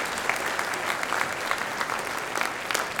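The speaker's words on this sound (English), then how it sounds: "can we just get a round of applause for everybody who helped put this together tonight?" An event audience applauds steadily and fairly loudly, a dense wash of many hands clapping with no pauses.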